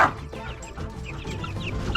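Chickens clucking in a farmyard coop, including Brahma and lavender birds, a steady mix of overlapping clucks and short calls at moderate distance, with no talking.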